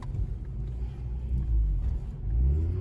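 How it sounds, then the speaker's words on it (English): A Mazda RX-8 rotary engine rumbles close by in a brief downshift, with low droning revs that rise and fall through the gear change and no talking. "That was a downshift of all time."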